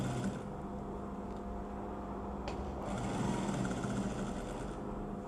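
A sewing machine runs steadily while stitching a princess-cut dress, a continuous close whirring with no talk over it.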